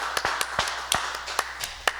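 A small congregation at a Sunday Mass applauds the singer with sparse, uneven claps, a handful of distinct hand strikes spaced apart over a quiet room with a low steady hum.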